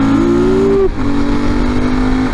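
A KLR650 or XR650L single-cylinder motorcycle engine, loud and close, climbs in pitch, dips briefly after a downshift, then holds a strong steady rev.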